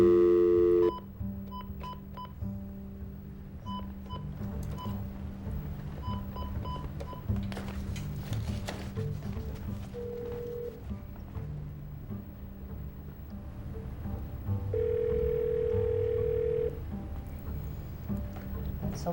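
A telephone call is placed: a few dialing beeps sound at the start, followed by a long stretch of quiet line hum with brief steady tones, and people talk faintly underneath.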